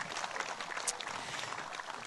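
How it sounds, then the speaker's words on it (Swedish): Audience applause at a memorial concert, a faint, dense wash of clapping continuing steadily without a break. "Ge de här tre herrarna en rejäl applåd"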